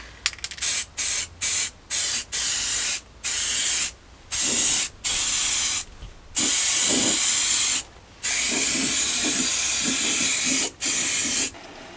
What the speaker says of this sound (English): Second coat of the white going on now.